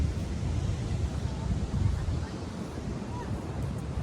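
Continuous rumbling surf on Kukumbung Beach, Cianjur, with low wind buffeting the microphone, a broad steady wash of ocean noise that eases slightly partway through.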